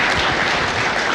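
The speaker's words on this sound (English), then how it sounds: "give her a round of applause if you would" An audience at an education talk event in Huntington claps in a dense, steady burst of applause, close and loud throughout.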